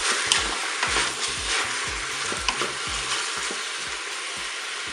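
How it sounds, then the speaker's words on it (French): Endives browning with sugar in a Cookeo multicooker, a steady close sizzle and fry with occasional soft stirring knocks and scrapes throughout. "on va retourner les endives"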